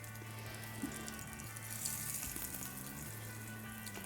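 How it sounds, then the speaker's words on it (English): Steady crackling sizzle of breaded shrimp frying in hot oil, close and even, with a low hum in the background and no speech. "Oh, there we go, it's sizzling."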